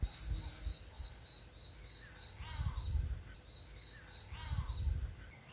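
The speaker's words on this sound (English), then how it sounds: "a go-away bird seemed to protest against the presence of our 4 bush campers" A go-away bird calls at a bush campsite in the Kalahari, giving a few harsh, repeated calls at moderate distance over quiet background hiss, with faint insect-like ticking.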